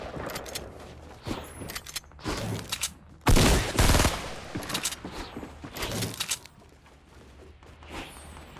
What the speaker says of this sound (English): We have a burst rifle. We can actually break through this wall and maybe get a hit in